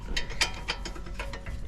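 A ratchet with a deep socket loosens a bolt during an Eibach Sportline spring install on a Mustang, giving a quick series of close mechanical clicks over a low steady background.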